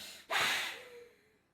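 A single forceful exhale during yoga breathing practice, a close, loud breathy rush that starts abruptly and fades out over about a second.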